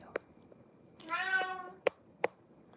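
Indoor pet cat gives one soft, drawn-out meow, faint and fairly close, between a few brief clicks and taps in a quiet room.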